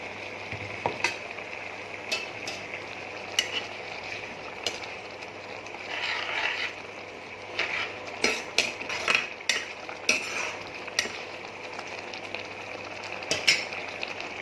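Fried banana flower goes into a pan of sautéed tomatoes and a little water, producing a steady low sizzle punctuated by repeated clinks and scrapes of a stirring utensil against the pan.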